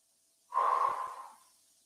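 A single forceful exhalation during a guided stretching exercise, a close, breathy rush of air that starts abruptly and trails off over about a second, alone without talk.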